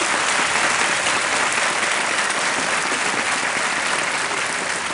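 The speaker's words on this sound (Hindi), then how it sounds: "बहुत बहुत तालियां बजती रहे इनको।" A KBC studio audience breaks into dense, sustained applause for a contestant, steady and loud throughout with no talking.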